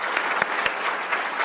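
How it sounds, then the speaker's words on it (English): A brief, dense burst of audience applause after a health talk on preventing colon cancer, many people clapping steadily and fairly loudly with a few sharper claps standing out. "Well, then let's give another round of applause for Dr. Christy Lopez."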